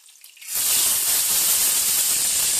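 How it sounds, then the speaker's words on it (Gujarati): Quiet at first, then a sudden loud burst of hissing sizzle as tomatoes hit hot tempering oil with chillies, holding steady and close. "હવે જો ટમેટા નાખું છું વઘારમાં"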